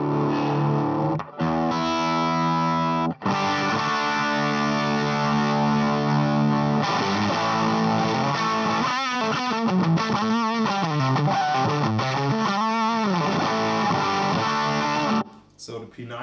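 Vintage Fender Stratocaster electric guitar fitted with a P90 pickup, played loud and continuous through distortion with sustained chords, then bending, wavering lead notes, ending abruptly with a short pause.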